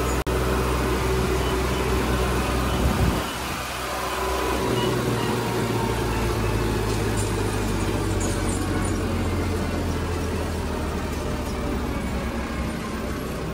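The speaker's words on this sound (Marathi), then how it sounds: "मित्रांनो, हा 55 हॉर्स पॉवरचा ट्रॅक्टर आहे." A Farmtrac 60 PowerMaxx 55 hp tractor with a T20 gearbox runs with a loud, continuous low engine drone, steady throughout with a brief dip early on.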